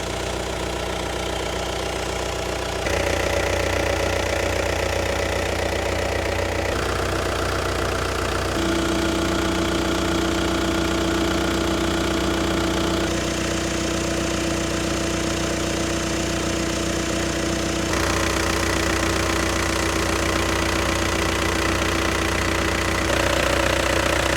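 A van engine runs steadily at close range after an injector repair, with a persistent mechanical knocking rhythm under the drone and no voices.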